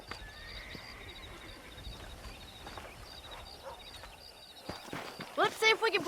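Horses whinny and hooves clatter in the Red Dead Redemption video game, with a low ambient bed under a brief talking voice, then louder neighs and stamping bursting out near the end.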